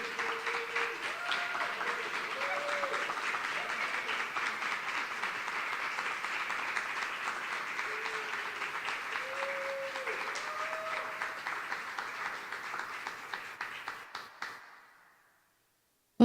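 A livestream concert audience applauds steadily for over ten seconds, a dense wash of clapping with a few faint voices and musical tones underneath, before fading out abruptly.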